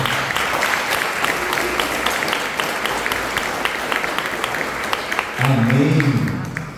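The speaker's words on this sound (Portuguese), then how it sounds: "salva de palmas ao Senhor, irmão." A church congregation claps as one during a sermon, producing a sustained, fairly loud round of applause. A voice begins speaking over it near the end.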